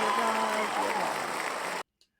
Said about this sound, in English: That was a long applause.